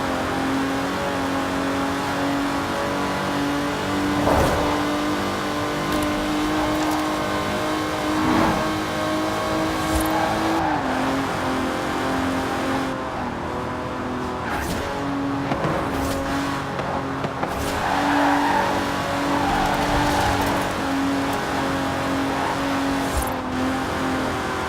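A 1960s Aston Martin DB5 Vantage grand tourer with side-draft carburettors, driven in the racing game Forza Horizon 4, holds a loud, steady engine drone that rises and falls with revs and gear changes throughout.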